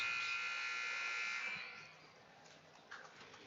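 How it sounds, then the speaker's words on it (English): A loud electronic basketball game clock buzzer sounds continuously for about two seconds at a high school varsity game, then fades into quieter background noise. "And buzzer will hit right now."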